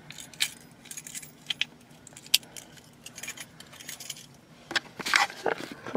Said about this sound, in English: I gotta grab my keys.